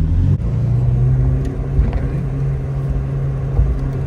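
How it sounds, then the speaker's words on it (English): A loud modified car engine on slick tyres rumbles steadily with a deep, throaty drone, heard from inside the moving car with the windows open and wind around it. "we're listening to the car, windows down"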